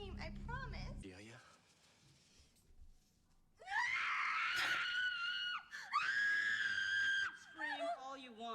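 A woman screams in a Buffy the Vampire Slayer episode, set in an abandoned building: long, loud, sustained shrieks with a brief break between them, after a short burst of other voice sounds at the start.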